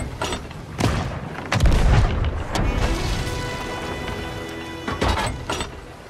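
Cannons fire in the video game Sea of Thieves: several heavy booms ring out one after another, deep and loud, with sharp cracks and metallic rattling between them in a chaotic battle scene.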